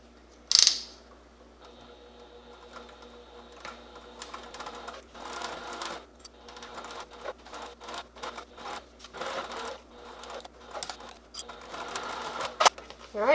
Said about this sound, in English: So right here, you're going to sew around here. Make sure you take your time going around the curves.